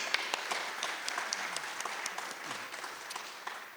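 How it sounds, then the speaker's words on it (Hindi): An audience at a Kabir oratorio performance breaks into applause, a fairly quiet wash of clapping with distinct individual claps popping out above it. "तो एक शानदार तालियों के साथ अब शुरू करते हैं कबीर का नाम।"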